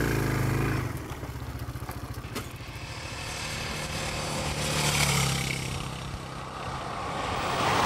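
A Sachs 650 roadster motorcycle engine runs while riding, opening with a loud low throb, then a rhythmic pulsing drone that rises and swells toward the end.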